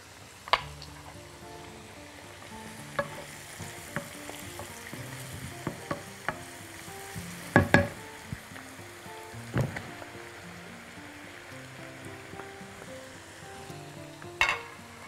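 Meat sizzles and fries in a pan on the stove, with repeated scraping and stirring clatter from a utensil and a few sharp knocks against the pan over a steady background hiss.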